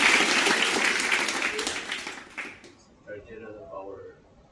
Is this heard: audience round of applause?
yes